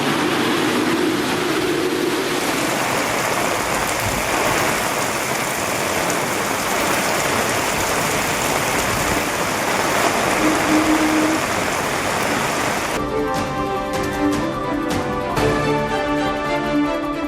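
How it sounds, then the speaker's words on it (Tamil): Heavy rain falls in the Nilgiri hills around Pandalur and Gudalur as a steady, dense roar of downpour that runs throughout. Music comes in over it toward the end. "நீலகிரி சுற்றுவட்டார பகுதிகளில் 2 மணி நேரத்திற்கு மேலாக கனமழை"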